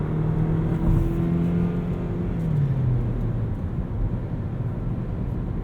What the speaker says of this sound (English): a little bit more engine noise